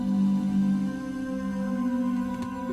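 A sustained Alchemy synth pad from Logic Pro, the Cold preset, holds steady low-mid tones with layered harmonics, alone and fairly quiet with no talk.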